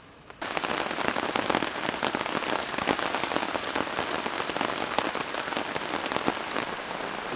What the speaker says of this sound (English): It's raining, Alan.